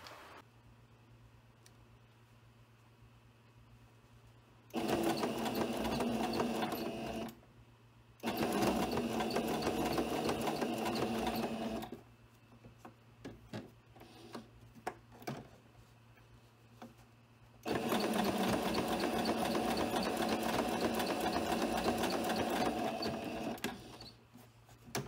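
Three long bursts of a sewing machine stitching parts of a handmade doll, with steady mechanical chatter separated by quiet pauses and a few faint clicks in between.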